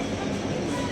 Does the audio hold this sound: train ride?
yes